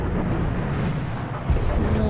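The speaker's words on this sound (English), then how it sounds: "Let's watch the explosion." Explosion in the Pirates: The Legend of Black Kat video game, a loud sustained rumbling roar with a low thump partway through.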